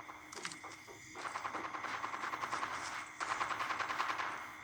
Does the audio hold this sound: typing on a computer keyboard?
no